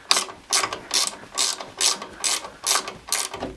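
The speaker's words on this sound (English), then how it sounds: "I forgot to tighten the bolts on the casters" A ratchet wrench tightening the bolts on furniture casters, clicking in about seven quick bursts of ratcheting, close and fairly loud, with no talking.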